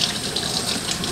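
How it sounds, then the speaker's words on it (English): A cabbage is rinsed under a running kitchen tap, a steady close hiss and splash of flowing water that lasts the whole brief moment without talk. "Got to rinse it off on the outside a little bit."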